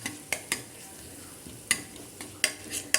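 Tomato and tamarind being sautéed in a pan, a low sizzle under repeated sharp clinks and scrapes of a spoon against the metal, spaced irregularly.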